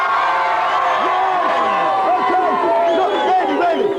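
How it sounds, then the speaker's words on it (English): A studio audience on a game show cheers and whoops loudly as one continuous crowd roar, with many overlapping voices rising and falling in pitch for the whole stretch. "Go on, give him a cheer!"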